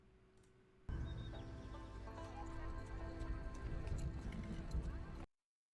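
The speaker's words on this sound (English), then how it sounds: "It's going to happen when Yasuke is riding on his horse" Horse hooves in a feudal Japan action game trailer, a steady galloping clatter carrying a rider, close and continuous under a low music bed before cutting off abruptly.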